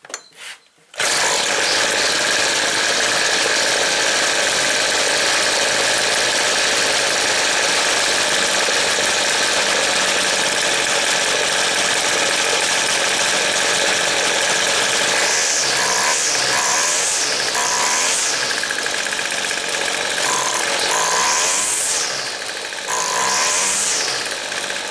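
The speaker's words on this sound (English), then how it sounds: "it's sitting there idling on its own" A small two-stroke engine on 2-cycle equipment idles on its own after a carburetor adjustment, a steady, loud, continuous drone with no talking.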